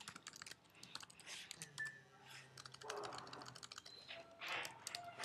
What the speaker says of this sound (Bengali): সুতরাং আমি একটা পাসওয়ার্ড লিখলাম।